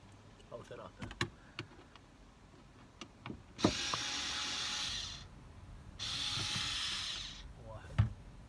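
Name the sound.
unscrewing screws on Nissan Patrol Y62 cabin filter cover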